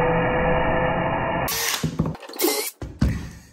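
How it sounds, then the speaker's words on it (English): Copper radiator pipes being deburred with a hand tool, making close rasping scrapes and short metallic grinding bursts that follow a steady machine-like hum. "Mark the holes where the pipes should go and deburr the pipes."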